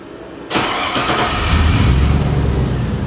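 A Mercury Monarch's engine cranks and catches abruptly after half a second of quiet, triggered by remote start, then settles into a loud, steady, rumbling idle close by.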